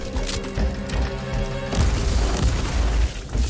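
Bomb explosion in Warhammer 40,000: Inquisitor, a heavy booming blast with crashing impacts and thuds over steady, dense battle noise, loud and sustained.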